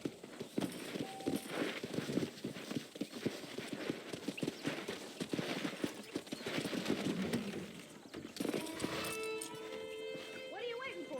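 Horse hooves clip-clop steadily in Red Dead Redemption under game dialogue and ambient music, the rider John Marston arriving after a ride, with a brief whinny and voices talking over the rhythmic plodding.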